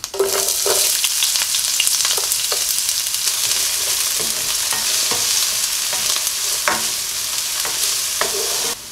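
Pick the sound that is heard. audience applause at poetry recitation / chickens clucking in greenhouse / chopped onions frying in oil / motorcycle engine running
chopped onions frying in oil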